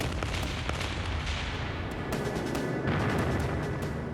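Bombing and artillery fire over Berlin in early 1945, late in the war: a dense, continuous roar of heavy rumbling with repeated booming blasts layered on top, loud throughout with no voices.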